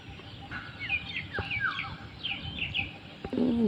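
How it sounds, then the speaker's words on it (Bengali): A yellow and black bird calling along a village path in rural Bangladesh, a series of short rising and falling whistled notes repeated for a few seconds over quiet outdoor ambience, with a brief louder sound at the end. "একটা সুন্দর পাখি ডাক"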